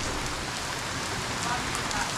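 Steady rain falls after a dust storm, a dense, even hiss of drops on surfaces that stays constant and fairly loud throughout, with no voices.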